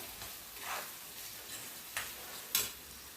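Capsicum is stirred in a pan after salt goes in, making a few soft, quiet scraping strokes at a gentle, uneven pace. No one speaks.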